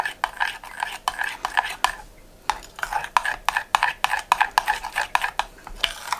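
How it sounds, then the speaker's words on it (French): A spoon stirs a creamy coconut milk and lime juice sauce, making rapid rhythmic scraping clicks against the bowl in close, steady bursts with a short pause partway through. "Et là, du coup, il n'y a plus qu'à mélanger correctement."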